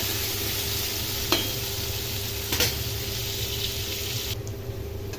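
Potatoes frying in a pan for a curry, a steady close sizzle running throughout, with a couple of brief stirring clinks and scrapes.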